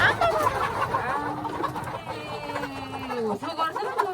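Several chickens cluck and murmur close by in a busy, continuous chorus, with soft scattered background noise.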